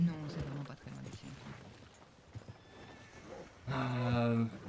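A horse in the Red Dead video game gives two drawn-out whinnies, one at the start and a louder one at the end, with soft hoof sounds and faint voices in between.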